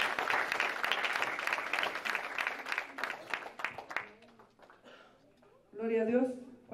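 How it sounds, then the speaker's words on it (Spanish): Church congregation clapping during a worship service, a burst of applause that fades out after about four seconds, followed by a voice speaking. "Dele palmas al Señor."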